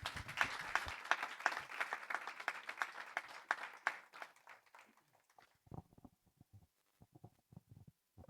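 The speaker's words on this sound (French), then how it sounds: "On peut les applaudir très très fort" Studio audience applauding the cast of the musical Marilyn in a French broadcast studio, a burst of vigorous clapping that fades after about four seconds into sparse scattered claps and near silence.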